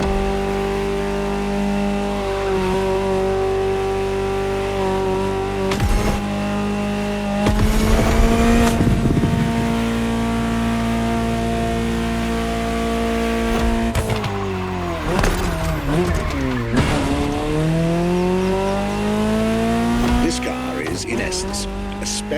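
A Ferrari 288 GTO roars through The Crew Motorfest, its engine rising and falling through gear changes, with tires squealing and skidding in several long bursts, loud and close, while a voice talks over it.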